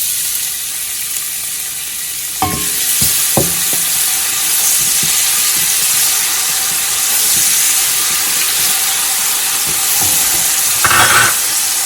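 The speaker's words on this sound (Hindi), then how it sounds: "अब मैं इसके अंदर डालूंगी प्याज" Onions dropped into a saucepan holding a little under half a cup of oil: an even frying hiss with a few knocks and clinks around the start and near the end, no voices.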